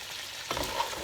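Browned meat with garlic and chili frying in a pan for a rough tomato stew, a steady broadband sizzle that swells slightly midway with a stirring scrape, close and alone.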